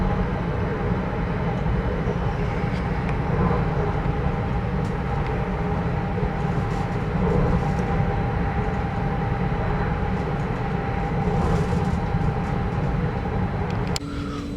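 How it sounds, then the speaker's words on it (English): Steady, quiet rumble of a diesel passenger train running on a rural line, heard from inside the carriage as a continuous low drone with faint rattles, no talking, for about fifteen seconds. "This is a diesel train."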